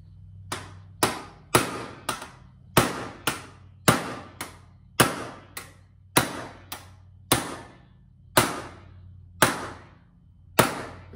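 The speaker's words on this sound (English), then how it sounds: "Again, with it being a heavier hammer, I don't have to put a lot of weight behind it." A heavy hammer strikes steel sheet metal while a rocker panel for a Toyota FJ-40 Land Cruiser is fabricated, about twenty sharp ringing blows at an uneven, steady pace, close and loud, with no talking.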